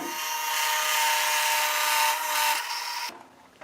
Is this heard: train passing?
no